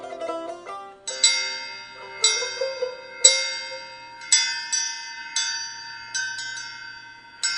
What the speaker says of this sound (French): La cloche du village vient de sonner les matines